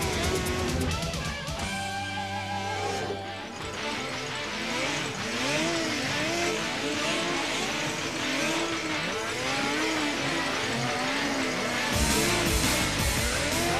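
A 1995 Arctic Cat snowmobile with a light, powerful 580 cc liquid-cooled engine and three exhaust pipes revs and races, its engine note rising and falling continuously through repeated throttle changes.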